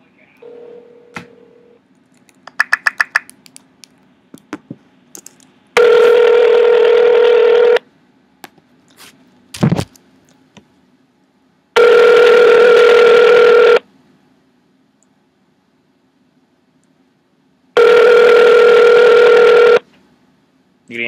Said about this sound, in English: You can answer the phone.